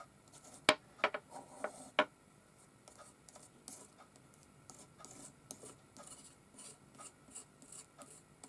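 Faint scraping and rasping on craft material from a memento book maker kit, a few sharp scratches at first, then lighter intermittent rubbing strokes, close and quiet with no talking.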